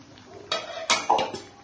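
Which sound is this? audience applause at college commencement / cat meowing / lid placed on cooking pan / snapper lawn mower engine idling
lid placed on cooking pan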